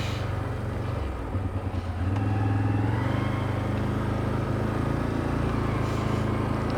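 A Polaris ATV rides along a trail loop, its engine a steady, close rumbling drone that eases briefly, then holds a continuous, even tone with no talking.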